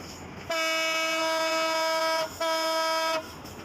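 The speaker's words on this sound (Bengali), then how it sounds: "দেখতেই পাচ্ছেন ট্রেনটা অতি দ্রুত ছুটতেছে" Lalmoni Express train horn sounding loud and close near Bogura, a long steady harmonic blast that breaks off briefly and resumes for a second shorter blast, with no talking.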